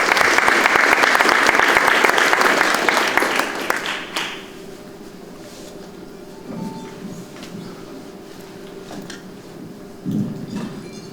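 Audience applause welcoming architect Andrew Kudless at a talk, a dense, loud burst of clapping for about four seconds that stops abruptly, followed by quiet room tone with a few faint knocks and shuffles.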